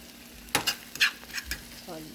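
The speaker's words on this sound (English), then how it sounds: "I'm gonna have to scramble because I'm doing a breakfast burrito." Eggs scrambled in a hot frying pan for a breakfast burrito: a handful of quick spatula scrapes and stirs over a soft, steady sizzle, close and clear.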